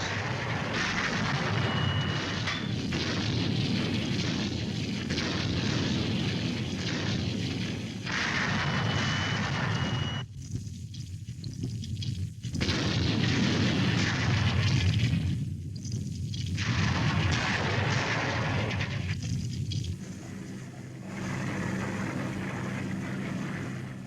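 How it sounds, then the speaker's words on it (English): Distant booming and rumbling of D-Day naval bombardment and artillery fire during World War II form a dense, continuous roar, with heavier low thuds and a few brief dips in intensity. "The naval bombardment continues."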